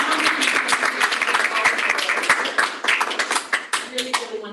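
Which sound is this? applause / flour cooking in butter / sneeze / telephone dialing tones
applause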